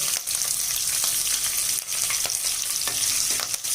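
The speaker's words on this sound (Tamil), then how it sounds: "வெங்காயம் சேர்த்து வறுத்தாச்சு." Onion frying with dried and green chillies for masala lemon rice: a steady, loud oil sizzle throughout, with occasional scrapes and clicks of stirring, no talk.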